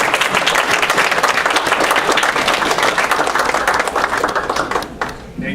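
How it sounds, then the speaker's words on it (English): Audience at a school board of trustees meeting applauding steadily, a dense, sustained clapping from a room full of people that fades slightly near the end. "Let's give them an applause on the way out."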